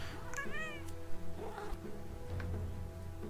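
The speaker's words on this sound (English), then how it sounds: "she is being an annoying meowy little kitten" A kitten meows once with a rising, wavering call, close to the microphone, over a low steady hum and faint background noise.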